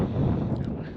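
Wind roars over the microphone of a Spyder motorcycle during a ride, a loud, low, gusty rumble filling the whole second with no clear speech.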